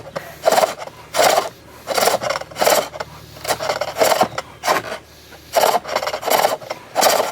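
A turning tool cuts long, thick wood shavings on a bowl, making rhythmic rasping scrapes in quick repeated bursts about every half second, close and clear with no talk.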